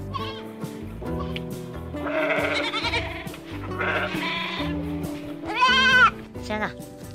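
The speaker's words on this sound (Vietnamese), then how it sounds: "Con này là con cừu." Sheep bleat in several drawn-out, wavering calls, one louder cry standing out near the end, amid a child-oriented animal-learning segment where a person talks in between the bleats.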